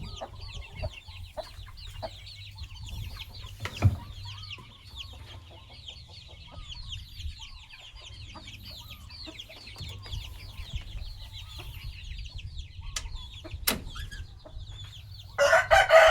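Chickens and chicks cluck and peep continuously in a dense, busy chorus, with a few sharp knocks and a burst of rustling noise at the end.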